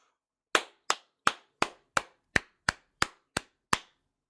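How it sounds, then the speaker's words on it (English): Hands clap close to the microphone, about ten sharp, loud claps in a steady rhythm with brief silence between each. "Sorry about the clapping in the microphone."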